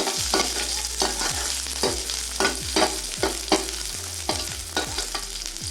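Curry leaves and green chillies sautéing in a pan for temple-style ash gourd sambar, a close sizzle broken by regular stirring scrapes roughly every second.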